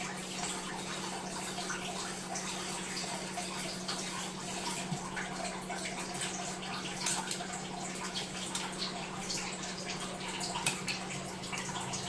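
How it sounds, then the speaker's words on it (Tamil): Hot water is poured into a thick yam (raja valli kizhanku) payasam in a home kitchen, giving a steady, continuous watery pour with faint trickles over a low background hum. "கொஞ்சம் தண்ணி, சுடு தண்ணி ஊற்றணும்."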